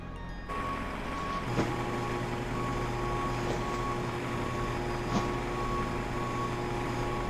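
A fuel truck pulls away from a Boeing 737 airliner at the gate in a flight simulator, a steady vehicle engine hum with repeated reversing beeps over a continuous apron drone, no talking.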